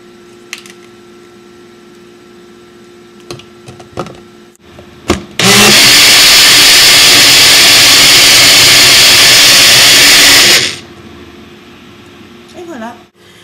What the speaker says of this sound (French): la raison pour laquelle on préfère le mélanger ou le mixer dans un mixeur ou un moulinex